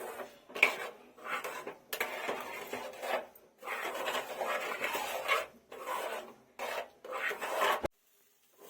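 Egg bhurji is stirred in a pan, giving rough scraping and rubbing strokes of a spatula against the pan in uneven bursts with short pauses, fairly quiet and close.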